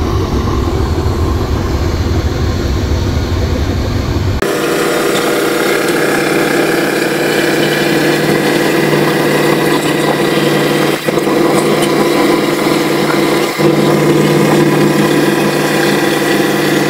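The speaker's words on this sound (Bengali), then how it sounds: "বগদাদিয়া 12 ফুল স্পিডে চালাচ্ছে, তবু ওভারটেক করতে পারছে না সুন্দরবন 16 লঞ্চটিকে।" A large passenger launch on the Dhaka to Barishal river route runs at full speed, its engine a loud, continuous drone that shifts abruptly in tone a few seconds in, then holds steady.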